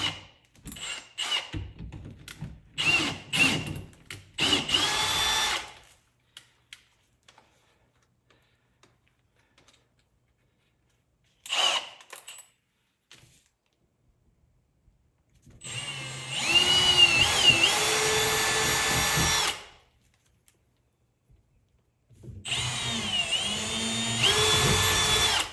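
A power drill bores holes during a Giraffe G20 pressure washer install, coming in several loud close bursts of whirring separated by silent pauses, with no talk.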